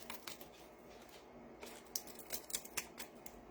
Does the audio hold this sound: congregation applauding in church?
no